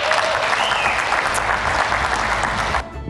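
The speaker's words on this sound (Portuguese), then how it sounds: "Tá aí as palmas para o presidente Jair Bolsonaro" Broadcast applause for the president on a Brazilian morning radio show: dense, loud, continuous clapping for about three seconds before it abruptly drops away near the end.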